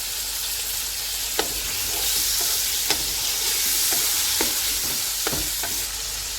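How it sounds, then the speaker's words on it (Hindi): Ginger and garlic paste sizzles steadily in hot oil in a pan, a continuous hiss with occasional stirring clinks, close and moderately loud, no voices. "अब इसी ऑयल में हम अदरक और लहसुन का पेस्ट डाल देंगे।"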